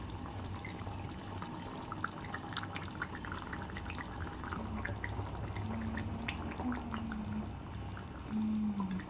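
Rohu fish pieces go one by one into a simmering capsicum curry, bringing soft liquid splashes and drips over a steady bubbling background.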